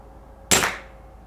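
A single sharp, close crack from an FX Panthera air rifle shot while rat shooting at night near a trailer, rising abruptly from a quiet background and decaying within about a quarter second.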